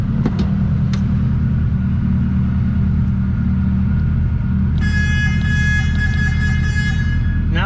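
A car's engine runs with a loud, steady low rumble, and a few seconds in a high electronic chime or warning tone starts sounding over the idle.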